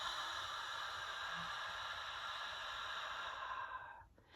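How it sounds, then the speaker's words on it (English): A long, steady breath pushed out through the mouth during a relaxation exercise, a sustained airy hiss that fades out near the end, heard alone without talk. "Long exhale out of the mouth."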